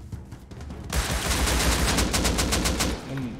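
Rapid automatic AK rifle fire in the survival game Rust, a dense loud burst of evenly spaced shots lasting a couple of seconds after a brief quieter start, ending abruptly.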